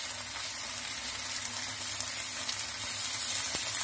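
Onions and green chillies frying with tomato sauce, chilli sauce and vinegar in a pan, a steady, close hiss and sizzle throughout with no talking.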